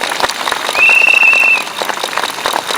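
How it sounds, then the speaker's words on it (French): Warm crowd applause at an outdoor peace and liberty march in Paris, loud and continuous, with a sustained whistle rising above the clapping for under a second. "qu'on peut applaudir chaleureusement"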